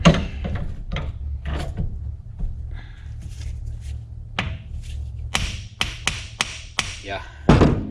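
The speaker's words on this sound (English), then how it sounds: "This axle might come out now. Hit it with your hand." A Yamaha Grizzly 700 axle takes a series of sharp, irregular hand blows during wheel bearing removal, each close metallic knock ringing briefly, with clanks and shifting parts between the hits.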